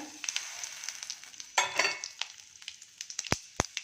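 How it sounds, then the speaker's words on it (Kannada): Mustard seeds, chana dal, urad dal, curry leaves, cumin and fenugreek sizzle and crackle in hot oil for tempering, close and lively, with sharp pops and a stirring scrape partway through. "ಇದೆಲ್ಲ ಸ್ವಲ್ಪ ಫ್ರೈ ಆಗಲಿ."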